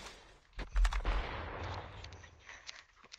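Gunfire in a shooter video game: a rapid burst of loud shots gives way to a lingering echo, then scattered single shots at a distance.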